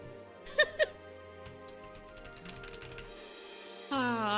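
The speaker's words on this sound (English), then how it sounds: "Fucking Keychron keyboards." Typing on a Keychron mechanical keyboard: a couple of sharp clicks, then a quick run of close, crisp keystrokes, ending with a brief tonal sound.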